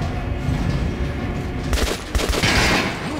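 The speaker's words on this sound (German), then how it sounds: "Probiere mitten auf die Brust der normalen Atrans zu schießen." Gunfire at shooting range targets in Metro Last Light Redux, a burst of sharp reports after a steady background drone, loud and close with a brief rattling tail.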